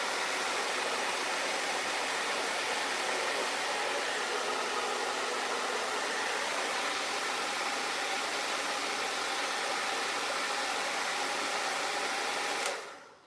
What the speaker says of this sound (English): This is quite a hot diffuser, so typically I turn it down to a medium heat.